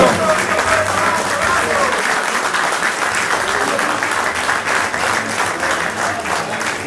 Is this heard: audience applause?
yes